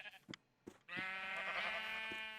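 Sheep bleating in Minecraft: after a few short blocky game clicks, one sustained, wavering bleat rings out loud and close until the end.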